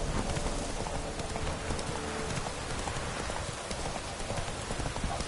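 Horse hooves clip-clop in The Witcher 3, a steady rhythmic trotting under a constant wash of rain pattering on surfaces, with no talk.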